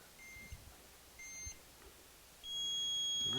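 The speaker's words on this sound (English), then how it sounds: "Release at the beep." Beeping from a heat press timer while a two-color name and number transfer is applied with demo film: faint short tones early on, then a sustained electronic beep from the midpoint to the end, with no voices.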